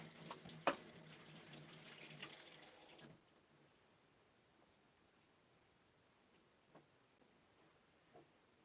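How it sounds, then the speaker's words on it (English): Tap water runs into a kitchen sink while hands are rinsed after making lasagna, a steady close rush lasting about three seconds before cutting off, followed by near silence with a couple of faint clicks. "Rinse my hands."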